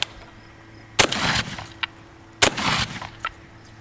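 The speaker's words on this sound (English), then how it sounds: "We're going to fire 2 rounds of double-aught buck into the dirt barricade." Two loud, sharp blasts from a Benelli M2 Tactical 12-gauge shotgun with an 18.5-inch barrel, firing double-aught buckshot into a dirt barricade, spaced about a second and a half apart, each followed by a brief rumbling tail.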